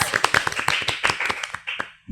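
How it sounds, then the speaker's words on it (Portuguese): Audience members clap to welcome guests onto a Brazilian podcast panel, a short burst of close, sharp, uneven handclaps that thins out and stops after about two seconds, with light voices mixed in. "Uma salva de palmas!"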